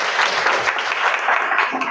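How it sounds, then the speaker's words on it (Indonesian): Group applause in a classroom during a teacher performance assessment session, steady dense clapping from many hands throughout, fairly close and even in loudness with no pauses. "Tepuk tangan."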